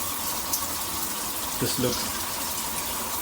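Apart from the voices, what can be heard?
water running from Moen Magnetix handheld shower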